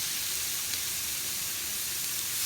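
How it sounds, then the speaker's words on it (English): Burgers sizzle in a hot cast iron indoor grill pan, a dense, even hiss that holds steady and close throughout with no talking. "Okay, so to my grill pan, I'm going to just place my burgers"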